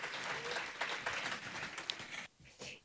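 Audience applause welcoming two speakers onto the stage at a marketing conference, a moderate crowd clapping that fades out after about two seconds, followed by a brief quieter burst.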